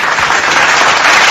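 An audience applauds in a dense, loud burst of clapping that carries evenly through the whole short stretch.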